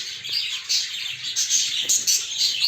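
Show jumbo pigeons in a loft fill the air with steady high chirping and calls, close and continuous, with no talk over them.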